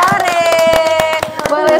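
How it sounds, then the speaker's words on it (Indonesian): Rapid clapping at a children's growth and development health talk, a quick string of sharp claps under an adult voice that speaks continuously over them. "Tepuk tangan dong."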